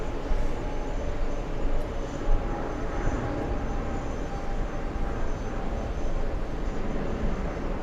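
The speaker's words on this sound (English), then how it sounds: "Bit of a 2-for-1 shot with the KLM 777 from Amsterdam." A KLM Boeing 777 arriving from Amsterdam makes a steady, loud, broadband jet roar on landing. It holds constant throughout with no voices.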